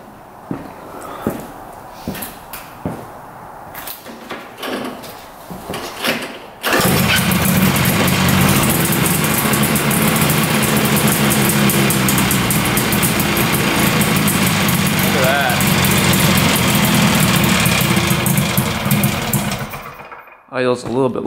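A 340cc two-stroke trike engine, found untouched after 40 years, catches after a few seconds of talk and cranking, then runs at a steady, loud, buzzy idle before cutting out near the end.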